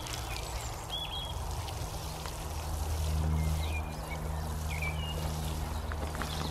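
Water pours from a large watering can onto newly planted onion sets in a garden bed during hot weather, a steady soft splashing stream over faint outdoor background with bird chirps.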